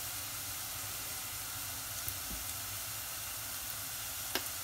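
A steady, quiet sizzle of mint sautéing in a pan, with a faint clink of a utensil partway through and no talking.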